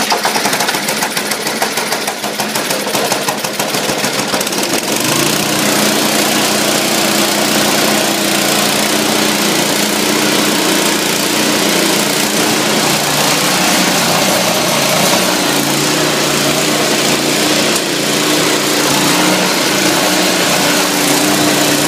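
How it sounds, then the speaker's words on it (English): A Craftsman snowblower engine runs with its augers engaged, a loud, steady, high-pitched mechanical drone that holds without pause from start to finish. "the motor shouldn't have started up with the augers engaged"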